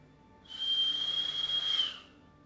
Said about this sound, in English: That's my through my teeth whistle.